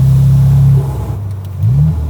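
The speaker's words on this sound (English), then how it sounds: "the turbo noises are quite fun" A turbocharged Morgan Plus Four engine drones loudly, drops off with a brief whooshing turbo flutter, then revs back up with a rising pitch.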